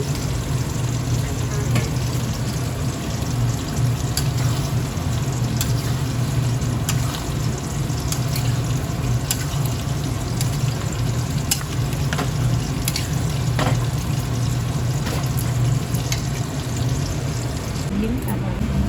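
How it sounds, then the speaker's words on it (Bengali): Pieces of meat sizzle and fry in a spice paste that has already been sautéed, giving a steady hiss and crackle with occasional stirring scrapes that carries on for the whole stretch. "মশলা কিন্তু কষা হয়ে গেছে, মাংস দিয়ে দিলাম।"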